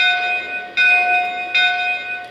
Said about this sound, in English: It does have a bell on it.